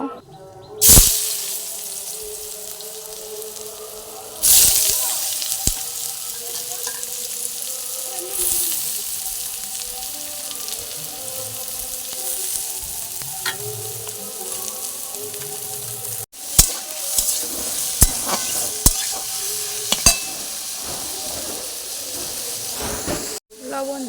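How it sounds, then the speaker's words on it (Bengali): Hissing fry of potatoes in a wok, loud at first then settling into a steady sizzle, with clatter of stirring and bursts of spattering later, lightly salted. "প্রথমে আলুটাকে আগে ভেজে নেব তারপর অন্য কিছু করব"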